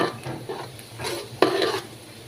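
Spice paste stir-fried in mustard oil with a metal spoon, giving irregular scraping stirs over a soft sizzle, with a sharper scrape near the end.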